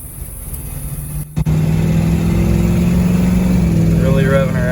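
Engine of a 2nd Gen Cummins truck revs and runs loudly and close by after a brief cutout, with voices talking over it.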